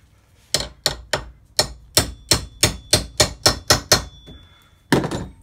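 A dozen sharp hammer strikes on a chisel crimping a battery terminal, evenly spaced and loud and close, followed after a brief pause by one final blow.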